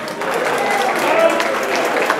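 A round of applause at a Yoruba community union launching and inauguration ceremony, dense continuous clapping from a crowd, loud and steady for a couple of seconds with no talk.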